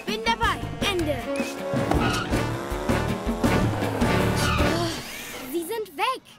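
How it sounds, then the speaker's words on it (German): Cartoon cars race away in a chase with screeching tires and revving engines, loud and close, while characters talk over the commotion. "Spürnase Scotty, wir verfolgen die Wagen."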